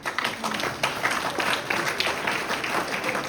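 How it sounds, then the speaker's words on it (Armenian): Audience applause at an Armenian political speech by Nikol Pashinyan: a dense, steady wash of many hands clapping, moderately loud and continuous for the whole stretch, with no voice over it. "դե ծափ տվեք։"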